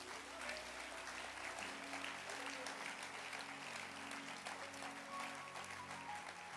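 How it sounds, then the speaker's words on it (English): An audience at a church teaching session claps for a book in steady, continuous applause lasting several seconds, moderately loud with a crowd murmur underneath. "Can you clap your hands for this book?"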